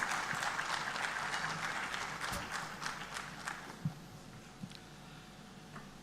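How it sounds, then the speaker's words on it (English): An audience at the Ideas of India Summit 2023 claps continuously, the dense patter gradually thinning out over several seconds with a few louder individual claps near the end. "Ladies and gentlemen, a big round of applause for Avinash Pandey"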